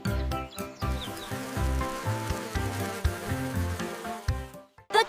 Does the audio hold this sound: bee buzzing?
yes